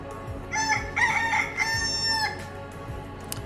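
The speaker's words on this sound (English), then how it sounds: "they are the type of chicken that does that classic rooster call in the morning to wake everybody up" A rooster crows once in a long, loud, clear cock-a-doodle-doo close by, followed by a short trailing squawk, with no talking.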